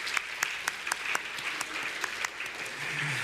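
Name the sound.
congregation applauding in church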